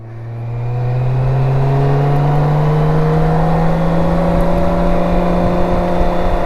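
Motorcycle engine carrying two riders settles into a steady, loud drone as the throttle is rolled off, its pitch sliding slowly downward over several seconds with no talk.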